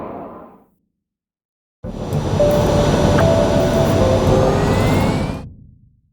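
A jet fighter roars past in the Ace Combat 7 flight game, a broad loud rushing drone lasting a few seconds with a faint rising whine on top, preceded by a short burst of other game noise and a gap of silence.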